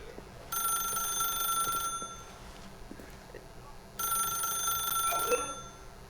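A telephone rings in the video game The Stanley Parable, with two bright electronic ring bursts separated by a short pause, loud and close over a quiet background.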